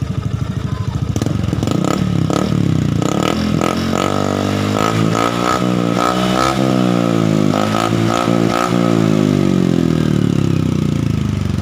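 A Honda Beat Fi scooter with a modified exhaust pipe revs up and down repeatedly, loud and close, with a rough, throaty exhaust rasp and clattering idle between blips.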